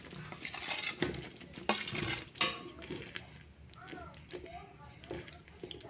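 Raw paneer cubes tip into curry masala in a pan, giving a few clattering scrapes and knocks of utensil on cookware amid light kitchen handling, with faint background voices.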